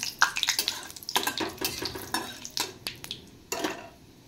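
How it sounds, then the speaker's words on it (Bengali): Black cumin seeds and two bay leaves crackling in hot oil in a pan, with a run of irregular clinks and scrapes of a utensil against the cookware over a soft background sizzle. "এবার তেলে আমি সামান্য কালো জিরে আর দুটো তেজপাতা দিয়ে দিচ্ছি।"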